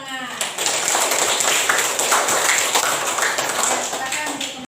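A classroom group breaks into loud, dense applause for a student group, many hands clapping steadily for several seconds before it stops abruptly.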